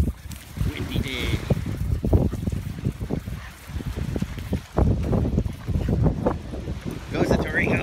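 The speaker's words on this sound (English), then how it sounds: "I love wind." Gusty wind on a breezy morning dog walk outdoors, rumbling and buffeting the microphone in loud, uneven bursts throughout, with a few faint higher sounds in the background.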